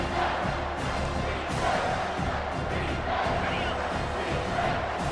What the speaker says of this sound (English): This Georgia Tech crowd's trying to get the defense ready to go.